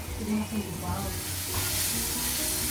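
Onions frying in a pan for Japanese katai soba, a steady close sizzle with soft stirring scrapes and faint background murmur, no clear talk.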